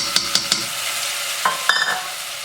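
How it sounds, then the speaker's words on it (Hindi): A whisk scrapes and taps in a pan as flour is worked into melted butter and oil over low to medium heat for a peppercorn sauce, with a soft sizzle underneath and a few sharp clinks. "विस्क के साथ इसको हिलाते रहें"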